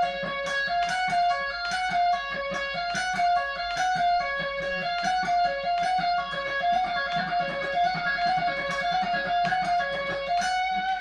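Electric guitar lick in a 1987 style, with a driven, effected tone, repeating notes across wide interval leaps and ringing unisons in a fast, continuous run, loud and alone with no talk.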